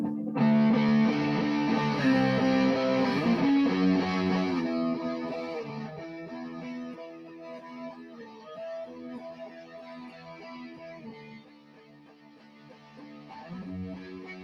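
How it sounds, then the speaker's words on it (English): An electric guitar plays through an amplifier with echo cancellation left on, giving sustained, effects-laden chords. The sound is loud at first, then thins and dips before swelling again near the end. "if I leave echo cancellation on, it's going to sound like this"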